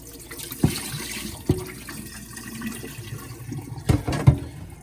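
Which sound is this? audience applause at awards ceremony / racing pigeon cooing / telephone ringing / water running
water running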